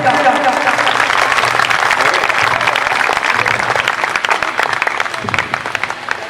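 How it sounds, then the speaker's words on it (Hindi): A congregation at a satsang gathering claps to welcome a girl, sustained dense applause filling the hall, loud and steady, with a voice speaking over it. "सभी उस बेटी का तालियों से स्वागत करेंगे, तालियों से स्वागत करो बेटी का।"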